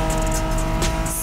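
Honda NSX sports car from the 1990s, driven in the video game The Crew Motorfest, with a steady engine drone and a brief swell near the end, close and continuous.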